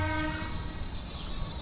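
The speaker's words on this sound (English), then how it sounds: "Somebody's honking really crazy" A vehicle or train horn sounds in a few sustained blasts early on, outdoors with wind noise, then fades into steady background rumble.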